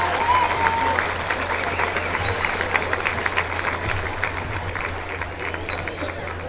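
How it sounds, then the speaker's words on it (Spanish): Sustained crowd applause at the inauguration of a sports facility with a basketball court in Tamazulapan del Espíritu Santo, steady and dense throughout, with faint voices underneath. "Fuertes los aplausos"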